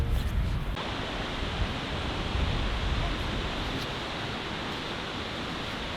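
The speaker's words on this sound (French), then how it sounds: "voilà à quoi ça ressemble la cascade" Large waterfall in Iceland roaring as a steady, loud, broadband rush of falling water heard up close, with no break in the wash for the whole stretch.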